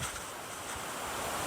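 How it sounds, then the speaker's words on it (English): A small river flows near a village campsite as a steady, broad rush of water. It is moderately loud and continuous, with some wind noise and no talk. "Yeah, I can hear the river now."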